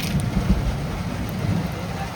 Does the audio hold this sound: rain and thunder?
yes